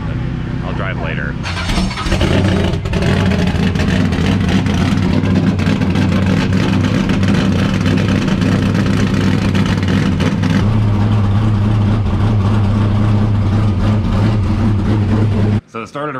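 A Richard Petty '72 tribute race car engine fires up and runs loud and close, a harsh sustained roar with a shift in pitch partway through, then cuts off abruptly near the end.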